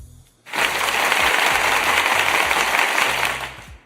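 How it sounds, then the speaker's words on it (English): Clapping breaks out after a brief pause, a dense burst of applause lasting about three seconds at steady loudness before fading. "I'm going to applaud you real quick."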